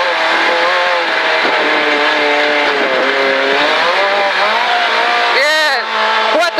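Rally car at full throttle on a gravel stage, engine howling loud and close with rising pitch sweeps through gear changes, a sharp rev spike near the end, with voices talking inside the car.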